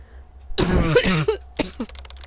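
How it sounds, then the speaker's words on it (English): A harsh, close cough bursts out, followed a moment later by a shorter second cough and a softer throaty rasp. "Oh, excuse my coughing"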